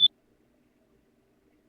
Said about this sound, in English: my fire alarm was beeping.